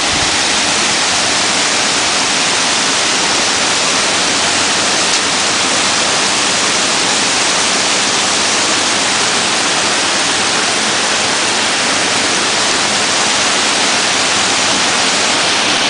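The Tambre river rushes past Ponte Maceira near Negreira in A Coruña, a steady, full roar of flowing water that holds unbroken and loud from start to finish with no voices.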